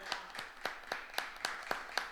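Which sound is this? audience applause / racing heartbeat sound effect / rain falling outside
audience applause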